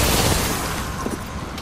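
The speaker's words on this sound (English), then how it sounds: "Grenade flung." An Arcstar grenade blast in Apex Legends, a short dense burst of crackling, booming noise that stays loud and rough across the whole moment.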